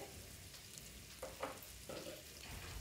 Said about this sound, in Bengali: আমি এখন এটাকে কষিয়ে নিই।